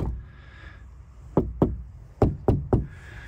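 Five sharp knocks close by, two and then three, from the sound-deadened door of a 1987 Syncro Westfalia van being shut and thunked solidly, with no rattle and no voices.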